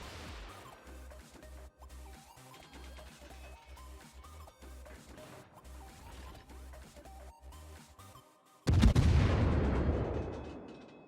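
A heavy naval gun salvo fires from a Tier X Italian cruiser, the Venezia, in World of Warships, a single loud booming blast that rumbles and decays after a stretch of low, steady in-game music and ambience.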